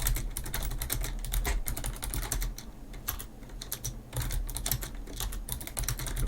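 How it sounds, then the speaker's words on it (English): Rapid, quiet clicking of fingers typing on a computer keyboard continues in bursts, with a brief pause midway, close to the microphone and with no talking. "I'll type it out in the Discord right now."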